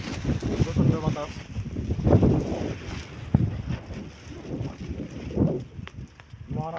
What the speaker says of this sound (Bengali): প্রচন্ড বাতাস